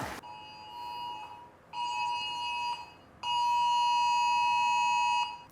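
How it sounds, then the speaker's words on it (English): A phone alert tone warning of coming rain, sounding in three loud sustained electronic beeps of increasing length, alone with no talk. "Just got a notification on the phone because it's going to rain."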